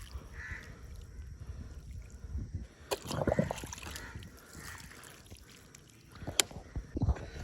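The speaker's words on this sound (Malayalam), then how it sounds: "ഇത് നമുക്ക് നല്ലോണം വെള്ളം ഒഴിച്ചു കൊടുക്കാം" Water splashes and sloshes onto a dug hole in garden soil for planting carrots, in a couple of bursts, with a crow cawing nearby in an otherwise quiet outdoor setting.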